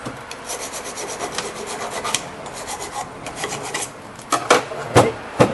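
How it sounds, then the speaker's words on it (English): A brush or pad scrubs rust off the brake clips of a 2008 Toyota Highlander during a brake job, making close, rasping back-and-forth strokes that grow harder and louder toward the end. "we clean it up a little bit just to clean the rust"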